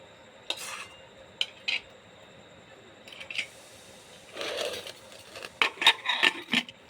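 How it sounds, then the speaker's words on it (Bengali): Chicken pieces for biryani are set into a metal pressure cooker in a home kitchen, giving sparse clinks and scrapes of meat and utensils on metal that turn busier and clattery toward the end. "তারপর দেব বাকি মাংসগুলা। ভালোভাবে সাজিয়ে নেব।"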